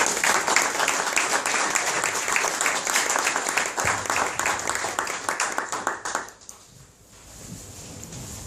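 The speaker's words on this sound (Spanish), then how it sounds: "le damos la bienvenida con un fuerte aplauso" Loud, dense applause from an audience welcoming author Fernando Iglesias at a book presentation, steady clapping for about six seconds before dying away into quiet room tone.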